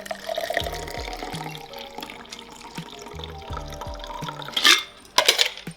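Liquid pours from a cocktail shaker into a glass for a Paloma Loca tequila cocktail, close up, with a trickling splash and a few clinks of ice near the end.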